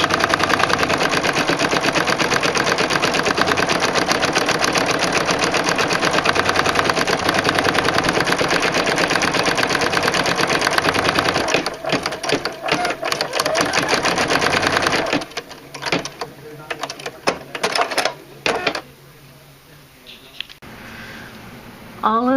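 Embroidery machine stitching out a large design in red work stitch on hooped fabric, a loud steady rapid needle chatter that runs continuously, then breaks into stop-start bursts and pauses near the end.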